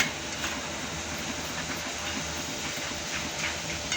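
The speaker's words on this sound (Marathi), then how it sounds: "तळून घेऊ" Cashews and other poha chivda ingredients fry in hot oil in a slotted ladle, giving a steady, even sizzle and hiss with no voices.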